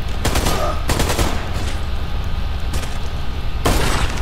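Bursts of automatic gunfire in a video game, with friendly fire switched on, come in several loud volleys separated by short, busier gaps.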